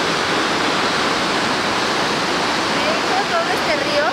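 Quetzalapan waterfall, a cascade of about 100 metres, roars as steady loud rushing water, a dense continuous wash of sound with no break and a faint higher whistle near the end.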